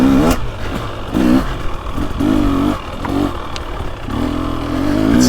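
A 2023 KTM 300XC two-stroke dirt bike engine lugs low in third gear on a trail ride, pulsing and surging in rough bursts with clattering from the bike over uneven ground.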